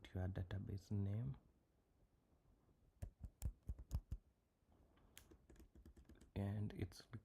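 Computer keyboard typing while a database command is entered on a MySQL server, a run of close, crisp key clicks between stretches of a person talking at the start and end.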